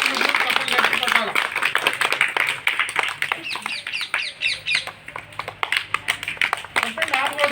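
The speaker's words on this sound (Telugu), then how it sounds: "చప్పట్లు కొట్టాలి అందరూ" Children and parents at a school prize event clap for a winner, with scattered uneven hand claps near and far, mixed with children's chatter and shouts.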